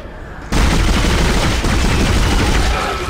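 Sudden loud sustained gunfire in the Dead Space video game, a dense rapid burst of shots that starts abruptly after a quieter lead-in and keeps hammering without pause.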